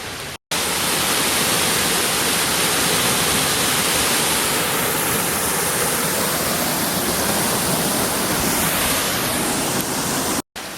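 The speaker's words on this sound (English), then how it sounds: "You will not find a shortage of creeks to quench your thirst." A creek along the Appalachian Trail flows in a loud, steady rush of close-up running water, broken only by brief cuts near the start and end, with no talk.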